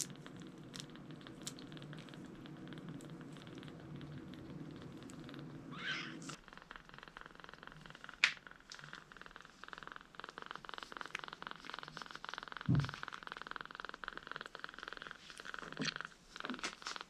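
A kitten purrs softly and steadily up close, a low rumbling drone that fades partway through, with faint rustling and a few small clicks and taps around it in a quiet room.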